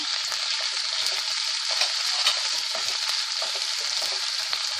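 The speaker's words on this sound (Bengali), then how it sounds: "সামান্য একটুখানি নেড়েই এর মধ্যে আমি দেব মাশরুম" Mushrooms frying in a pan for pasta give a steady, close sizzle that runs without a break, with faint stirring scrapes mixed in.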